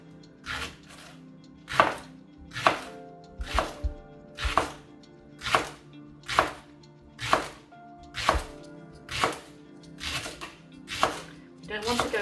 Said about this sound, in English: Now what you want to do with the leek, I've started to cut it, again finely cut it